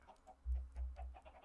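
Video game chickens clucking quietly, a few short clucks in a small flock, faint and close.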